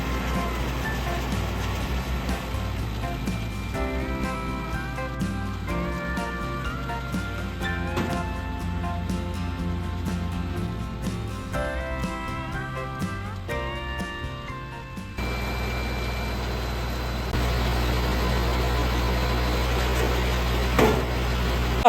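A compact tractor's small engine idles and runs steadily while hay baling with an IHI 855N mini baler, with tonal beeping or music-like tones over it, then the engine note rises and grows louder.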